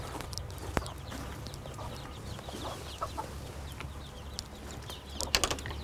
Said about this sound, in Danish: Der har vi så hønsene.